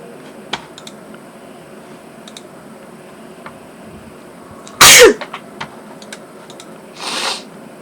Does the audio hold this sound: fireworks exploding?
no